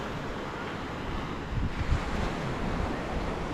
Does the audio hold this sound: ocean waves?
yes